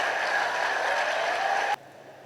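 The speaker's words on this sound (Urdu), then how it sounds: "میں چاہتا ہوں آپ سب سی ایم صاحب کے لیے تالیاں بجائیں" An audience applauding for the chief minister at a government event for students, a dense, even patter of many hands clapping that cuts off abruptly near the end, moderately loud.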